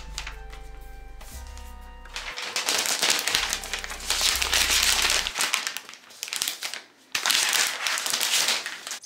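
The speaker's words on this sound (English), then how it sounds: "Use that same pull tab to unwrap it." Plastic protective film is pulled off a 2018 MacBook Air with its pull tab, loud close crinkling and crackling in long bursts with a brief pause, after a low electronic hum at the start.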